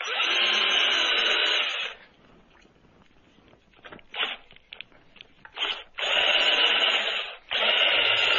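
Power drill boring into wood at an angle while building a wooden greenhouse, two long loud bursts of drilling split by quieter handling and short bursts, then a final sustained run.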